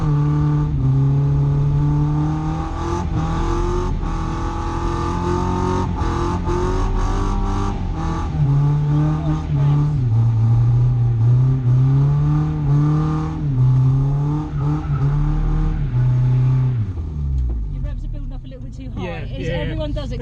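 A car's engine holds a loud, steady drone while drifting on a track, its pitch rising and falling as the throttle changes, with a person talking over it throughout.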